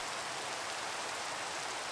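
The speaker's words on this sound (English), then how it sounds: "I wish it would stop raining." Steady rain falls in the Minecraft SevTech Ages modpack, a dense even hiss of drops on surfaces, constant and fairly loud with no talking.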